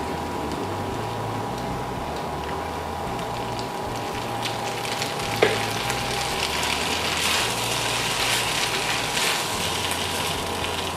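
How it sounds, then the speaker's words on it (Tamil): Onions sizzle in a pan for Chinese-style soy sauce tofu, a steady, even frying hiss that stays constant throughout, with a low hum underneath and a single faint clink partway through. "வெங்காயம் எல்லாம் போடுறேன்."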